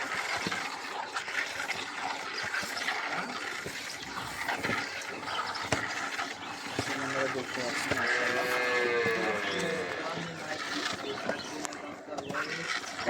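A large Jersey dairy cow moos in long, drawn-out calls at close range, standing out most strongly midway through, with farm background noise and occasional voices around it.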